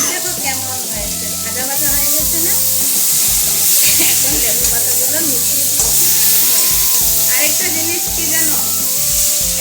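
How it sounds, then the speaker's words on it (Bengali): Lemon leaves fry in a pan with a loud, dense, continuous sizzle. Stirring noises run underneath from start to finish. "লেবু পাতাগুলো দেখো কেমন হয়েছে, ভাজা ভাজা হয়ে গেছে না?"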